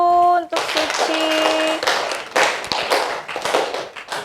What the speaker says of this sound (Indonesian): tepuk tangan dulu untuk Suci